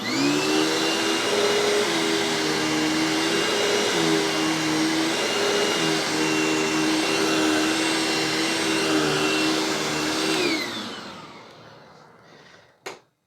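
A bagged vacuum cleaner roars steadily on medium pile carpet with its height set high, a loud, close, continuous whine and hum, then winds down over its last few seconds until a faint click ends it.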